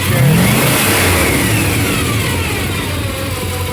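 A 400 cubic inch V8 in a 1994 Chevy Silverado revs hard during a cylinder test, its loud, steady mid-pitched roar settling slightly as the rpm eases, with no talking.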